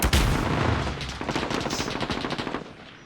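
Rapid bursts of automatic gunfire in a competitive esports video game match, a heavy boom at the start followed by dense, rattling shots that ease off toward the end.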